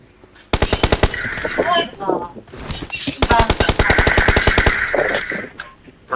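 Rapid automatic gunfire in a battle royale video game during a blue zone fight, two long loud bursts of evenly spaced shots, with a player talking over and between them.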